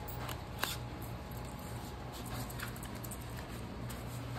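Steady rain patters without a break, a soft continuous hiss with scattered small drips and taps throughout, faint and even, with no voices.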